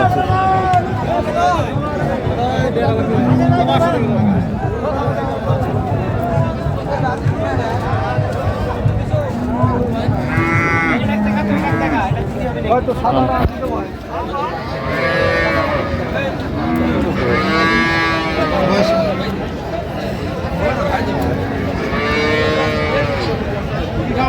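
Heat-tired cows and calves low again and again at a crowded cattle market. Several long moos rise above constant crowd babble and nearby voices.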